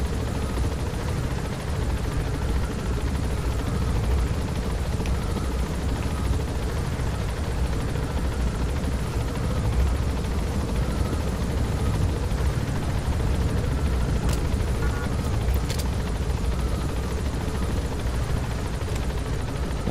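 Helicopter in the Metal Gear Solid V video game, a steady rotor and engine drone rumbling continuously at close range with a few faint clicks over it.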